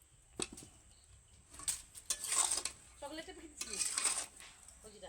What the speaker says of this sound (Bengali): এটা কিন্তু ঘন ঘন নাড়তে থাকতে হবে না হলে নিচে লেগে যাবে